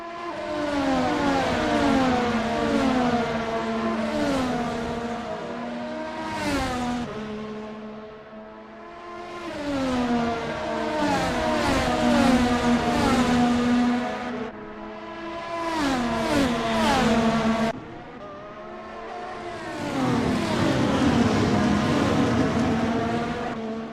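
Race cars at the Nürburgring screaming past in waves, engines rising and falling in pitch as several cars approach and fade, loud and continuous with brief lulls between groups.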